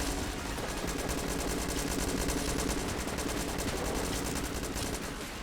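Rapid, steady automatic fire from a triple-shot bullet gun mixed with katana attacks in Enter the Gungeon, a dense, loud, unbroken rattle of overlapping shots through the whole stretch.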